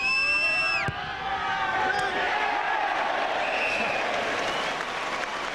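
Rugby crowd at a Gloucester versus Bath match breaking into sustained applause and cheering after a successful kick, a broad wash of clapping filling the stand with a commentator speaking over the start.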